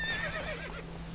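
Roach the horse from Witcher 3 gives a single short whinny, a clear rising-then-falling neigh close up over a low steady hum, no talking.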